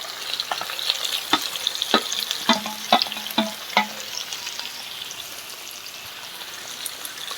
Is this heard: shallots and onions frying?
yes